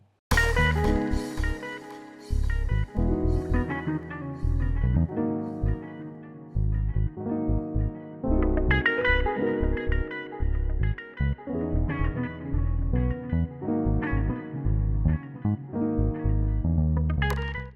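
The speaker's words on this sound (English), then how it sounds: "let me play you the electric guitar with the bass as well as the grand piano" Electric guitar, bass and grand piano play an amapiano chord-driven passage in bursts of phrases with short gaps, the parts layered together with no talking.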